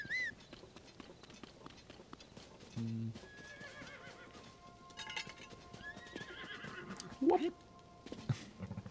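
A horse whinnies and clip-clops in the video game Zelda: Tears of the Kingdom, with a brief neigh and hoofbeats mixed among game effects and a player's talk.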